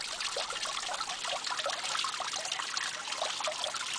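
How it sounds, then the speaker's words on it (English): Creek water trickles and burbles steadily at Berry Creek Falls along a forest loop trail, a soft, continuous splashing wash at moderate distance, with no voices. "just listening to the water."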